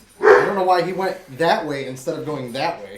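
Dogs kept riled up in a back room bark and yip faintly in the background while someone talks over them in a casual podcast recording.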